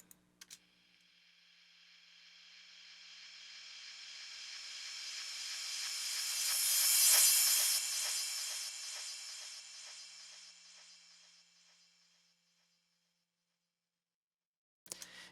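A trance drum track's ping pong delay repeats swell in as a hissy wash of echoes, peak near the middle, then fade gradually into silence, with a faint click at each end.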